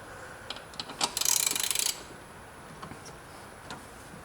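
A ratchet tightens the last bolt on an oil separator being installed in a 2015-2017 Subaru WRX: a rapid burst of close metallic clicks lasting under a second, with a few scattered ticks before and after.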